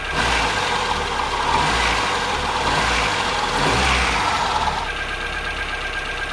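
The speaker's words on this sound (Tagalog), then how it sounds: "kung naririnig nyo makina lang talaga wala nang kakaiba na tunog kagaya nito" A Kia Pride car engine runs steadily with a rough, slightly knocking mechanical hum, loud and continuous with no talking.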